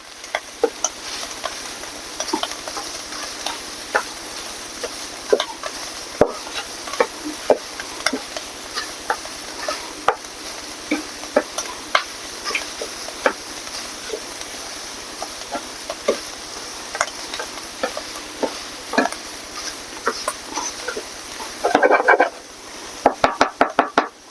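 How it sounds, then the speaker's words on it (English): Eggs being scrambled in a hot pan for breakfast burritos: a spatula knocks and scrapes repeatedly against the pan over a steady sizzle, with no talking. "Scrambling more of the egg."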